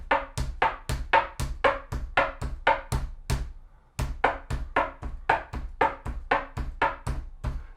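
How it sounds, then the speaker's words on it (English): Steady hand drum rhythm alternating sharp knuckle slaps with deeper bass tones, close and dry, played solo with a brief pause midway and no speech. "you should actually use your knuckles to play your slap. So you can have a knuckle going here and a bass going there"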